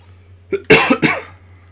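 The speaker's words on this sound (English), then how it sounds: "My coughing has been going down, but it's still not gone completely." A person coughs three times in quick succession, close and fairly loud, with a low steady hum underneath.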